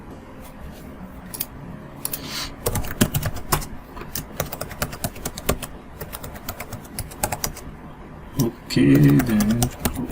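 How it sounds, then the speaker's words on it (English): Password being typed on a computer keyboard at a terminal during an Oracle 19c database setup, with irregular bursts of close key clicks running through the clip and brief speech in the middle. "we type the same password"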